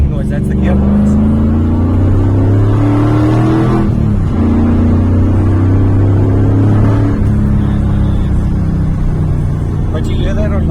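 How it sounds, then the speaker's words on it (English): A Nissan 200SX heard from inside while driving, its engine droning loudly with a rising gearbox whine that climbs through two gears, falls away at the shift, and builds again. "What's that whining noise? That's the gearbox."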